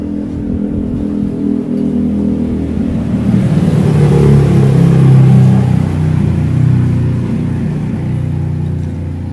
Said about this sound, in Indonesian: Suara mobil banyak berisik karena kita pingin jalan.